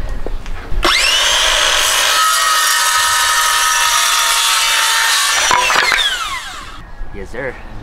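A power saw cuts through wood for the sides, a loud sustained whining rip lasting about five seconds that then winds down, with short clatter and talk around it.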